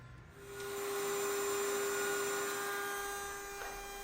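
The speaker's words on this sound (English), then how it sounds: "let's go ahead and head over to the router with a flush cut trim bit and ensure we've got a nice level set of dovetails and pins here" A router fitted with a flush cut trim bit trims glued wooden dovetails and pins on a serving tray, producing a steady, high-pitched whine with a constant tone that holds for about four seconds at moderate loudness.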